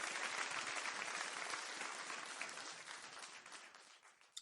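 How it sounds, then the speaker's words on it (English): A round of applause for intramural participants at a fourth grade awards ceremony held over Zoom, with dense clapping that is fairly faint and slowly thins out, ending on a single sharp clap. "Let's have a round of applause for our intramural participants."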